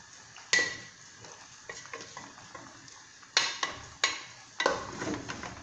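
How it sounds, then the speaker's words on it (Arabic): Onion, garlic, black pepper, ginger and salt fry in oil in a pan for an olive tagine, a soft sizzle broken by several sharp spoon scrapes and clanks against the pot. "هاد البصل والثوم، فلفل عكري، زنجبيل، ملح ورمد. لما يتقلى مليح هذه المواد"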